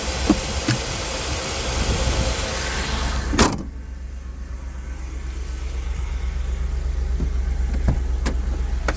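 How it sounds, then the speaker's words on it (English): A restored car drives with a steady low engine drone and road rumble, with a brief clunk early on and faint clicks afterward. "let's take it for a drive and we'll see how she does"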